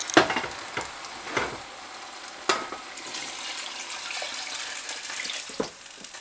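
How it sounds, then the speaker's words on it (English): Broth poured into a pot of paprika-coated meat, a steady pouring and sizzling wash with a few sharp clinks of utensils against the pot, close and alone. "we take our broth and we pour that in"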